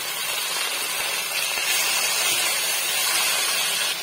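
Washed mint leaves tossed into a hot pan for mint chutney, giving a steady, close hissing sizzle that holds evenly throughout with no talk.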